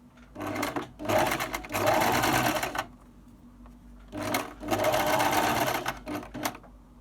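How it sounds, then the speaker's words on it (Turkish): A sewing machine stitches the edges of a fabric ruffle for a baby hat, running in two long bursts with brief stops and short starts between them, close up and with no talking. "İki kenardan da bu şekilde dikişimi başlıyorum."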